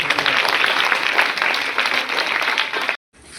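An audience at a children's coaching-program event applauds loudly, dense clapping sustained for about three seconds before cutting off abruptly.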